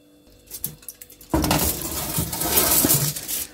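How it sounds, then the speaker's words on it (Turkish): A clay casserole pot of ribs and stuffed dried vegetables is handled and slid into an oven, with a few light clinks and knocks, then a sudden louder scrape and rumble of the pot and oven rack. "Şimdi de fırınımıza süreceğiz."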